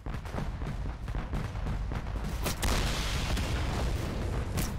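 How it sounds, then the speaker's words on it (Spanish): Loud, dense gunfire and booming blasts from the tactical shooter game Total Conflict: Resistance, with a rapid string of cracks and a heavier shot midway, continuous and close. "Ese disparo."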